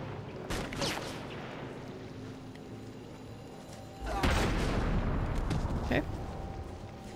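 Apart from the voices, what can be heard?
sniper gunfire in the video game Batman: Arkham City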